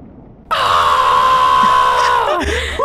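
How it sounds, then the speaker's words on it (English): A person in the horror game Escape the Backrooms lets out a sudden, loud, sustained scream of fright that holds for about two seconds and then breaks off abruptly, with quiet background before and after. "He's fucking screaming"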